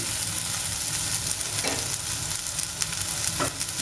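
Potato, eggplant and chopped onion fry with spices in a pan, a steady close sizzle with occasional stirring scrapes and no talking.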